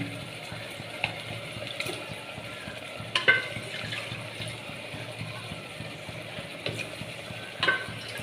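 Fresh mutton goes into a hot clay pot and is stirred as it fries, with a soft continuous sizzle and a few sharp clinks and scrapes of a spoon against the pot.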